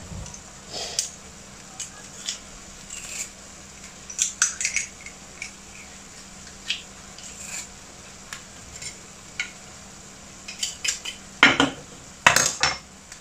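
A garlic clove being chopped in a food chopper, heard as a series of short clicky, clattering knocks of blade and plastic at irregular intervals, close and fairly quiet over a light background hum.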